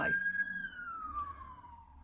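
A siren wails from outside, its single tone sliding slowly downward as the vehicle moves past. It sounds fairly distant and muffled, with a low indoor rumble underneath.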